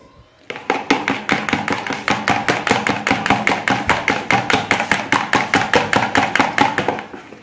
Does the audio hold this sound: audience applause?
no